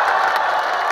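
Rock concert audience roaring with cheers and applause, a dense, steady wall of crowd noise with whoops rising above the clapping throughout.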